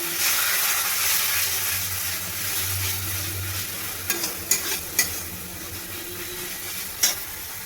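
A spice paste with ginger and tomato sauce fries in a wok in a continuous close hiss, with a few sharp spatula scrapes and knocks against the pan toward the end.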